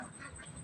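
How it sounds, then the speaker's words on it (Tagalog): A duck gives a short, faint quack at a birthday gathering, a brief nasal call lasting under a second against low background noise. "So, ayun na yung pato."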